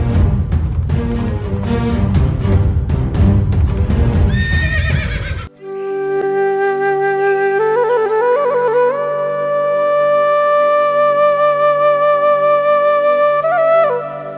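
Horse in a Tamil mythological stage drama about the sage Dadhichi: clip-clopping hooves and bustle at first, then one long, loud, wavering whinny carries on alone for several seconds.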